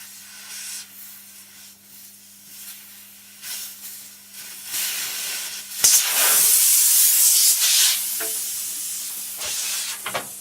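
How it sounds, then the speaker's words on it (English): An air compressor depressurising after a pipe is removed from its top, a steady hiss that swells into a loud, broad rush of escaping air midway and then tapers slightly, with a faint low hum underneath throughout. "that's just the compressor depressurising"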